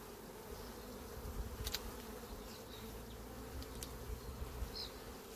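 Honey bees in an open hive give off a dense, steady buzzing drone, close and fairly quiet, with a few individual bees passing nearer now and then.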